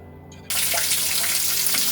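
Fresh water gushes steadily into a container for a catfish pond, starting abruptly after a brief quiet moment and continuing as a loud, close, even rushing splash.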